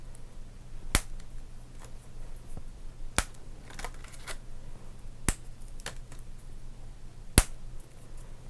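A stick of Topps bubble gum from a baseball card pack snaps in several sharp, crisp cracks spaced about two seconds apart over faint rustling.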